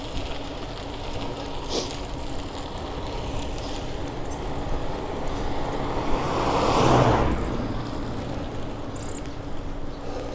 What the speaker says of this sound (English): That's a noisy bike.